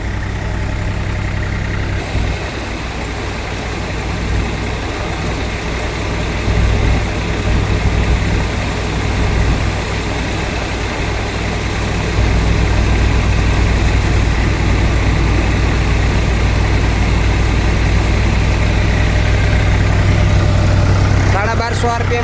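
Tractor engine running steadily at set RPM to power a Nataraj thresher working cumin, a loud continuous low drone and mechanical hum up close that holds throughout with little variation.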